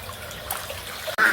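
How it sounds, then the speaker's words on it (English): Water trickles and dribbles from a hose draining a duck pool outdoors, a soft steady flow heard up close with a brief sharper splash near the end. "Another way to tell that water's coming out is if you see water come out of the hose like right here."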